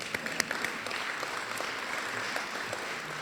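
An audience at a city's State of the City address claps steadily throughout, a dense wash of applause with a few sharper individual claps near the start.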